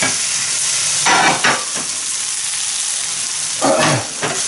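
Potato hash browns sizzle steadily in a hot frying pan, a constant loud hiss broken by brief scraping swells as they are shifted and slid across the pan.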